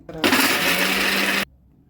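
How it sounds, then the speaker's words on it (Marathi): A mixer grinder grinding roasted chickpeas, a loud, steady whirring burst of just over a second that starts and stops sharply. "त्याचं वरचं साल काढून मिक्सरला बारीक वाटून घ्यायचे"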